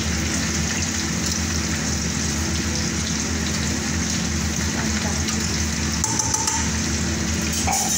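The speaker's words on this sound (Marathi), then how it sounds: "त्याच्यात पाणी टाकते मी" Water is poured into a pot of cooked dal with green chillies, making a steady, loud rushing splash that continues throughout.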